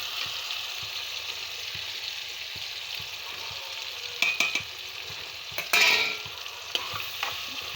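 A spoon stirs tomato and chilli powder in a pan for fish curry, giving a continuous bright frying hiss with scattered scraping clicks and a couple of louder metallic scrapes near the end; nobody speaks.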